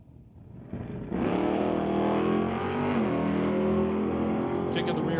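Drag race at Mission Raceway on a Friday night street-legal event, a Corvette against a 1973 Nova: engines idle low, then burst into a loud, close, sustained roar that holds high revs for several seconds.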